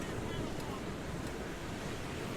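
Ocean waves lap gently over a coral reef, a steady soft wash of surf with a breezy hiss running unbroken throughout, no distinct crashes.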